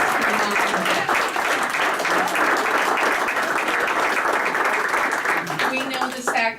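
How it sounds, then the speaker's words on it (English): A council meeting audience applauds moms and dads with loud, sustained clapping from many hands, which tapers off near the end as a voice starts speaking. "let's give a round of applause to the moms and dads."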